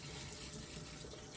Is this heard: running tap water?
yes